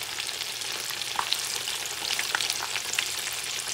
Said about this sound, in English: Now I'm going to turn them around. Fry for a little bit until they're cooked.